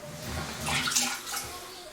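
Water squeezed from a grout sponge over a shower pan during a DIY tile installation, a short splashing trickle that swells and fades, fairly close.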